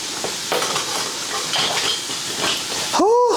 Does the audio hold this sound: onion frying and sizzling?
yes